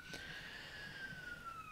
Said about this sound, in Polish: Poczekamy, aż nasza karetka prześmignie, o, szybko jecha.